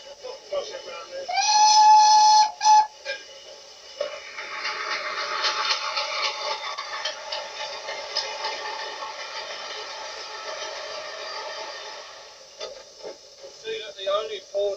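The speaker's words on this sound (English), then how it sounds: "Blow the whistle now, there's a passenger foot crossing round there." The whistle of British steam locomotive 31625 on an excursion run sounds a loud, sustained blast near the start, followed by rumbling running noise as voices talk over the cab din.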